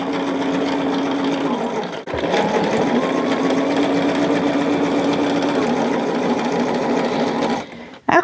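A home sewing machine stitches fabric pieces together in a steady, fast mechanical whir that runs loud and close, pausing briefly once and stopping near the end.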